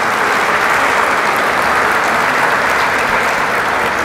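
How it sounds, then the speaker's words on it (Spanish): Loud, dense applause from a lecture audience for the speaker of an afternoon keynote, a continuous wash of many hands clapping close by without pause. "Un aplauso muy fuerte para nuestro conferencista de esta tarde"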